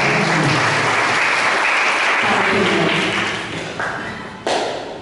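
Loud, dense applause from an audience welcoming a singer at a charitable trust's children's music event, sustained throughout and easing slightly near the end.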